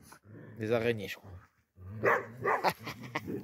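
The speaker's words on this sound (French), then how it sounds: "c'est un petit chien de chasse" A small hunting dog lets out a drawn-out growling whine and then a few short, close barks. A person speaks French in between.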